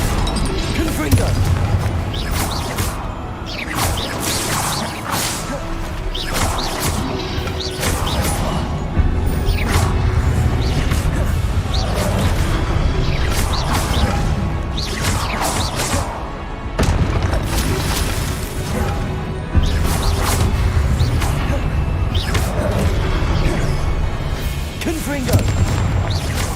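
Repeated Confringo blasting-spell explosions in the video game Hogwarts Legacy, loud booming crashes bursting every few seconds throughout, layered with constant game combat noise and a voice shouting over it.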